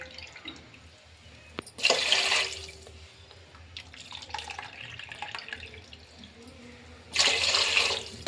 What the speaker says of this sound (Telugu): ఇలా వాటర్ పోసేసి